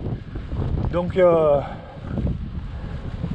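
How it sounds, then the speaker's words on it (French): Steady wind rushes across the microphone on a fixed-gear bike ride with no brakes, a continuous broadband roar that carries through the whole stretch while someone speaks briefly over it. "tu vois le vent là, il me casse les pieds"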